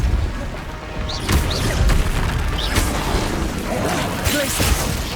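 Depulso, a forceful push spell in Hogwarts Legacy, lands with heavy booming crashes and thuds over a few seconds amid ongoing combat noise, loud and close, with speech mixed in.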